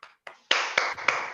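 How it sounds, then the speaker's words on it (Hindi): Hand claps from a small audience at an orientation training session, a few scattered claps building into several sharper claps over about a second, close and moderately loud. "बात के लिए एक जोरदार ताली होनी चाहिए"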